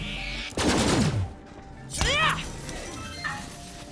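Pistol gunfire in the video game Borderlands 3: two loud, separate bursts of shots, each with a ringing, whistling sweep as it fades, and a short pause between them.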